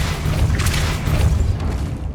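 A Depulso force spell blast in the PC game Hogwarts Legacy, a dense low rumbling boom that swells and holds steadily for about two seconds with no voices.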